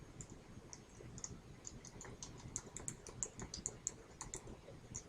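Quiet typing on a computer keyboard while entering a spreadsheet function, a run of light, irregular key clicks heard alone at low volume over a faint background hum.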